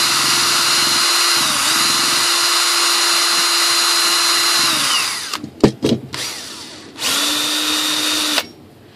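A power drill bores into a plastic landing-gear part of a model Airbus A380, running in a loud steady whine for several seconds, stopping with a few clicks and handling knocks, then spinning up again briefly.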